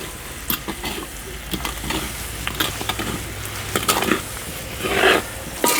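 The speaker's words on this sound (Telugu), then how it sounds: "ఈ పాకాన్ని సేమియా పీల్చుకునే వరకు మనం సన్నమంట మీద బాగా కలుపుకుంటూనే ఉండాలి" Vermicelli kesari being stirred in sugar syrup in a pan over low heat, a dense continuous sizzle with repeated scraping strokes of the spoon and occasional louder bubbling bursts, near and alone.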